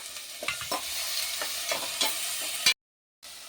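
Thinly sliced tomato frying with asafoetida in a pan for sambar, a steady sizzle broken by several stirring scrapes, close and moderately loud, with a brief cut to silence near the end.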